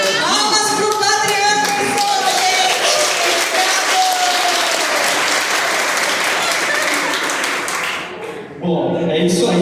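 Sustained, dense clapping from an audience at a Portuguese-language faith class, applauding a priest; loud and close, with a brief dip near the end before the clapping swells again.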